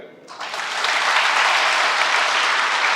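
An audience applauds after the kattuyanam rice variety is named, a brief sound at the start giving way to loud, dense, sustained clapping.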